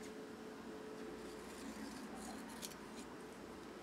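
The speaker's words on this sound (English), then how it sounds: "I think I'm gonna cut it in half because it's a little bit big." Scissors snip a paper planner sticker in half at a desk, a quiet steady cutting sound close to the microphone with no talking.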